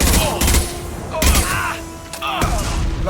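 Gunfire in the Mass Effect 2 video game, several heavy booming shots and blasts spaced about a second apart, loud and close over a low mechanical background.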